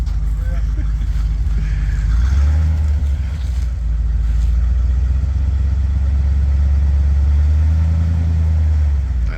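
A Chevy C50 truck drives during a brake test, its engine a loud, steady low rumble that rises slightly partway through, with voices talking over it.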